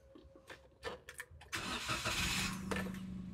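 A Toyota Agya car engine is started at home after an oil change: several short starter cranks, then the engine catches and settles into a loud, steady idle close by. No voices are heard.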